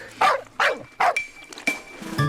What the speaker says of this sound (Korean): 아무는 개 짖는 소리가 이렇게